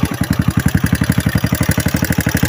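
A motorcycle engine idles close by, its loud, even low putter pulsing in a steady rapid rhythm with no other sounds.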